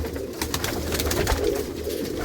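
Soft, low cooing of a white-eyed pigeon over a steady background hum, a continuous murmuring coo with no talking.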